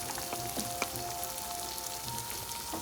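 Marinated chicken frying in a pan, a dense continuous crackle and sizzle with scattered pops, steady and moderately loud without any talk.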